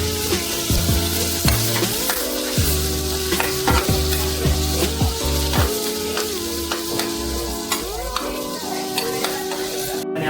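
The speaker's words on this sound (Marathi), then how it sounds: "कढी बटाटा आला आहे बटाटा आपण चांगला भाजलेला आहे" Potatoes with curry leaves roast in a pan for a masala dosa filling, giving a steady sizzle and frying hiss throughout, with occasional stirring knocks and a sustained tonal background.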